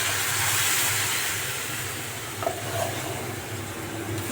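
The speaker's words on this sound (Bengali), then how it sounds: "নারকেল কোড়া এখানে দেওয়া হয়েছে বিভিন্ন মশলার সাথে, ভালো করে কষানো হচ্ছে।" Grated coconut and spices sizzle steadily in a hot pan while being stir-fried for a coconut chana dal. The frying hiss is loud and continuous, and a couple of soft scrapes of the spatula come through partway along, with no one speaking.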